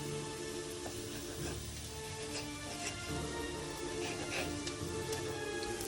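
Piquillo peppers and shallots sizzle softly in a frying pan, a quiet steady crackle with occasional stirring clinks, and no talk.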